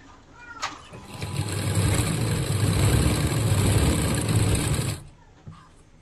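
Tailor's sewing machine stitching a zipper onto a churidar, whirring steadily for about four seconds before stopping, with faint handling sounds around the run.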